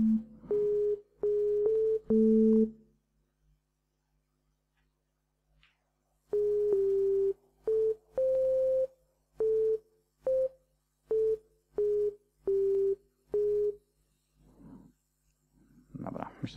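Software synth lead line, a bass line copied up an octave, plays short clipped notes in two bursts separated by a long silence, with faint rustling near the end.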